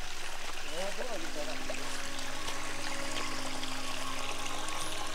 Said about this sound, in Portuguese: Essas águas aqui que passa é uma água que brota da nascente.